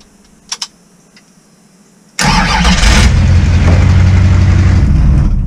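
A vehicle engine, shifted into park, cranks and catches abruptly after a couple of faint clicks, then settles into a loud, steady idle rumble up close with no talking.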